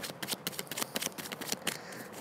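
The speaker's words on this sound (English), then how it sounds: "I turn them over to shuffle them and I switch them like this again" Tarot cards shuffled by hand, a quick run of crisp riffling flutters and soft slaps close up, with no talking over them.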